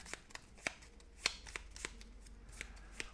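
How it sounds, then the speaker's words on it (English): A deck of board game cards being shuffled by hand, a series of crisp, irregular riffling snaps and taps close by, quiet, with no talk. "Shuffle this up"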